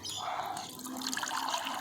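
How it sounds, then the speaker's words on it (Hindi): Water is poured into a bathroom floor drain trap with a close, steady splashing and gurgling trickle that continues throughout. "अब हम इसको पानी डालेंगे, कितना पानी इसका अंदर रुकेगा।"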